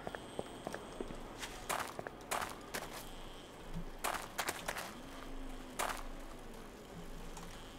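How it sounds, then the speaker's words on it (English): Running footsteps from a zombie horde in the survival game 7 Days to Die: a rapid, uneven patter of many footfalls over a steady background hum, with several louder thuds standing out and no talking. "I could hear lots of footsteps running."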